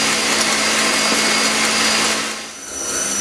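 An electric hand mixer whirs steadily at high speed, beating stiffening egg whites while egg yolks are added for a chocolate and cherry squares batter; the broadband motor drone is loud and continuous, dipping briefly near the end.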